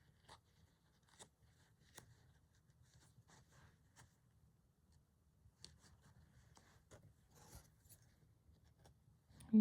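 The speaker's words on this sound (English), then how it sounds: "using the big scissors to do fine work." Quiet, irregular snips and scrapes of big scissors cutting through fabric, with soft clicks spread across the clip and a low background hum.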